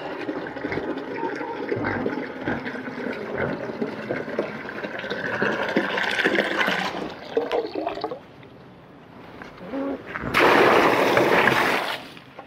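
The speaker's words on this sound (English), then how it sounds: "this is how you can see how we use the water with the hydrant to fill up the water dishes" Water from a farm hydrant runs steadily into animal water dishes, a continuous rushing splash that shifts partway through and swells louder near the end as a dish fills.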